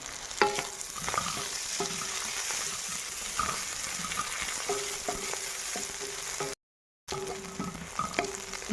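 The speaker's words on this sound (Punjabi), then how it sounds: "ਦੋ ਮਿੰਟ ਮੇਥੀ ਭੁੰਨ ਲਈ ਆਪਾਂ" Fenugreek leaves and onions stir-fried in a pan for a village-style carrot and pea curry; a continuous near sizzle with occasional spatula taps and scrapes, briefly cutting out to silence near the end.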